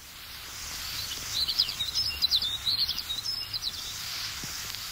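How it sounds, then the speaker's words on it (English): A snow bunting sings a run of rapid, high, twittering notes in brief bursts, faint and somewhat distant over a soft background hiss. "This is a snow bunting, perhaps, after the Ice Age"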